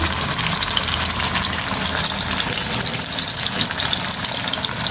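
Fish fries in oil over a low flame, a dense, even, continuous sizzle that stays loud and close throughout without any speech.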